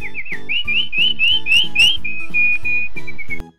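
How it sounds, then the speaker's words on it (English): A bird call sounds as a run of bright whistled notes that rise and fall quickly, then settle into a long, steady whistle, heard over a rhythmic musical backing. "Bird"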